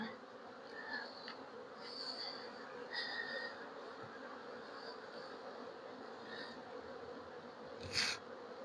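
Honeybees and drones drone steadily inside an open hive, a dense continuous buzz filling the whole stretch with a few louder passes near the end.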